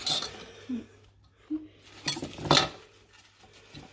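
Dishes and cutlery clatter and clink in a kitchen while tidying up during guacamole preparation, scattered close knocks and metallic chinks with short pauses between them, with no talking.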